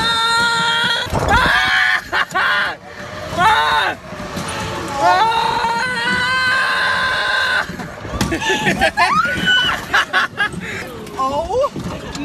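A person screams and shrieks loudly and almost continuously, the voice sweeping up and down in pitch, mixed with excited vocal sounds and steady background noise.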